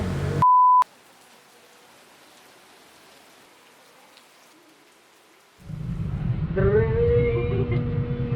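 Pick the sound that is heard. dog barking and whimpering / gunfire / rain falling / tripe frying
rain falling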